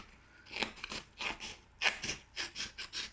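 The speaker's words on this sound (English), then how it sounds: "Now my scissors are absolutely terrible" Poor-quality scissors snip through paper for origami in a series of crisp, crunchy cuts, uneven in rhythm, close and fairly quiet with no voices.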